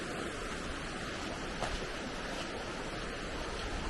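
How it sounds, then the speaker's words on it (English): River water rushing down from the mountains in New Hampshire, a steady broadband roar of flowing current, constant and fairly faint, with no voices. "And this water is rushing down from the mountains."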